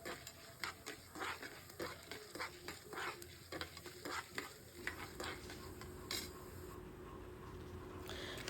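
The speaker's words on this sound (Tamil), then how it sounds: "அதில் ஆயில் சுட்டதும் அதுலேயே வந்து உளுந்த பருப்பு கடலைப்பருப்பு இது ரெண்டுத்தையும் போட்டு வறுத்துக்கிறேன்" Urad dal and chana dal fry in hot oil in a kadai with a constant sizzle, while a spoon stirs and scrapes in quick, repeated strokes against the metal.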